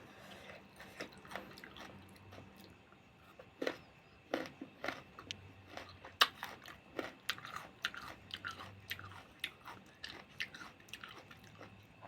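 Crisp, unripe mamuang man mango eaten with sweet fish sauce gives repeated close, crunchy bites and wet chewing throughout, alone without talk.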